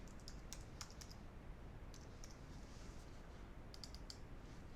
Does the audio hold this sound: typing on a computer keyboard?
yes